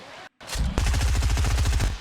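Rapid automatic gunfire in the video game Fortnite, a loud sustained burst of evenly spaced shots following a brief silence.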